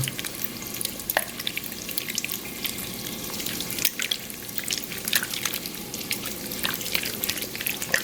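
Green beans and bacon are stirred together in a pan for a Southern green bean casserole. The mix gives off a wet, steady sizzle with scattered scraping clicks from the stirring.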